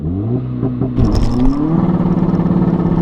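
A big-turbo diesel VW Polo engine revs hard at full throttle, rising and falling in quick pitch sweeps before settling into a loud, sustained roar with rattly clatter.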